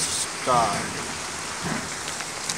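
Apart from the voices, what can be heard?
heavy nonstop rain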